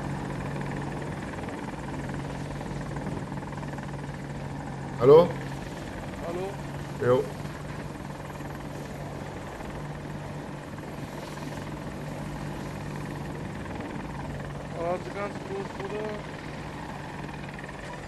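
A steady, low rotor drone from an AH-64 Apache attack helicopter in a multiplayer video game on the Hourglass map runs throughout. A player talks over it, with a few louder vocal bursts.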